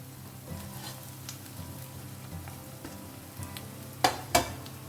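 Squid with green chili stir-fries in a pan with a soft, steady sizzle, punctuated near the end by two sharp clinks of a spatula against the pan.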